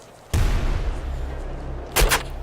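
Dual-wielded shotguns firing in the video game Nuclear Throne, two sharp booming blasts about a second and a half apart, the first followed by a rumbling decay, loud and close with no talk.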